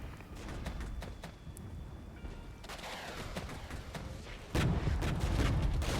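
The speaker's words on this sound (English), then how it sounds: "let's hit him with artillery fire" Artillery fire in a military strategy video game, heard as a steady spread of distant booms and crackling gunfire, growing louder and heavier toward the end.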